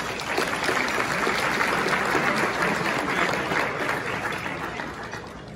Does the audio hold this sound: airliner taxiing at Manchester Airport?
no